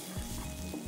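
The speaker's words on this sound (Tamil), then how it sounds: "இந்த சிக்கனை வந்து நல்லா சாட்டே பண்ணி குக் பண்ணணும்" Small chopped chicken pieces sauté in a hot pan with a steady close sizzle, broken by a few stirring scrapes.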